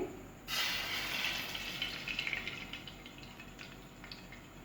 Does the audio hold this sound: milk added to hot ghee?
yes